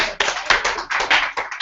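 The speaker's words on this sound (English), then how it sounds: "Give her a round of applause." Brief burst of clapping from a small audience at a Stanford Law School talk, a few irregular claps close by, sharp and uneven, with no speech over it.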